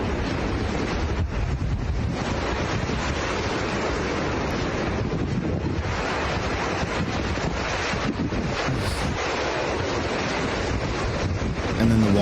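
Ocean surf surges in with the rising water, a loud, continuous rush and roar of waves heavily buffeted by wind noise against the microphone for the whole stretch.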